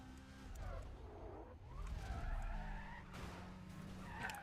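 A Porsche in the Need for Speed Undercover video game skids and spins out. Tires squeal over a revving engine, quiet and continuous, with screeches rising and falling across the moment.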